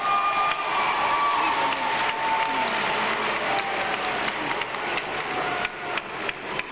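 Sustained applause and some cheering from a convocation ceremony audience for standing engineering graduates, a broad even wash of clapping with occasional crisp individual claps.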